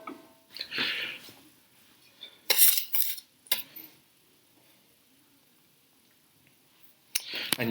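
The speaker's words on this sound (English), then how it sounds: "And now you just mix all these together." Cornbread batter of oil, milk and dry ingredients being mixed in a bowl, heard as a few sharp scraping clinks of a utensil against the bowl in separate bursts, with quiet gaps between them.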